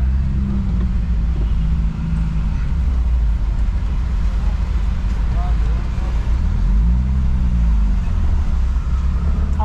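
Steady low engine rumble and road noise from inside a truck driving on a road in Massagueira, Marechal Deodoro, continuous and loud throughout, with people talking over it.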